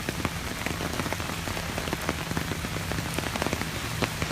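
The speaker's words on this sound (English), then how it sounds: "as it's raining, the water is starting to collect a little bit in places" Rain falling on a flooded street in Mid-City New Orleans, a steady close hiss with many distinct drops pattering and splashing into standing water, continuous and alone without voices.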